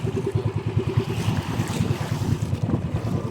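Small choppy waves stirred up where wind meets an opposing current wash steadily against a moving boat, with a constant rush of wind buffeting the microphone and a low rumbling throb running underneath.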